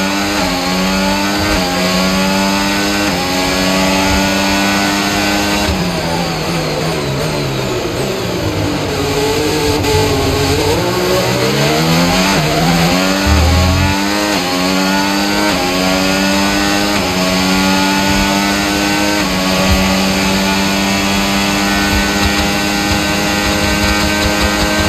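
A simulated Formula 1 race car in the F1 25 video game screams through a lap around Montreal, its engine climbing in pitch through repeated upshifts, dropping sharply under braking and revving back up, loud and close throughout with no speech.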